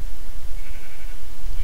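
Sheep bleating in the Minecraft video game, a brief faint call heard over a loud low rumble of game noise.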